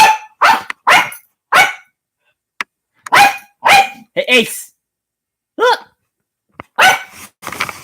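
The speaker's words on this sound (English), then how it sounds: "Oh, look, the dog's barking." A pet dog named Ace barks in a series of sharp, close yips and barks spaced across several seconds, with a person speaking to it in between.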